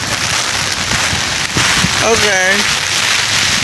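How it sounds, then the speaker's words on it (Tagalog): Heavy rain pours down outdoors in a constant loud hiss and patter, with a voice briefly speaking over the downpour. "Alright, so lumakas pa ng ulan, may payong kami."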